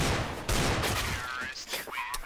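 Gunfire on the Cache map in a Counter-Strike: Global Offensive pro match, a flurry of rapid shots and sharp cracks heard behind a commentator's voice.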